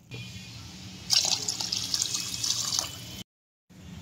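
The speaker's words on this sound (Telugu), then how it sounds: "ఇప్పుడు వాష్ చేసుకున్న బియ్యంలో సరిపడా 5 గ్లాసులు వాటర్ పోసుకుందాం" Water pours into a pot of washed rice in a short, splashy, gurgling burst of about two seconds over a low background, ending in a sudden silence before faint room sound returns.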